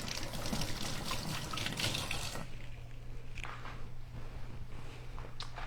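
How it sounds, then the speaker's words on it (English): Dried DeCecco spaghetti dropped into a pot of water: a loud clattering, splashing rush for about two seconds, then quieter faint trickles and small knocks over a low steady hum, alone. "So let me throw the pasta in."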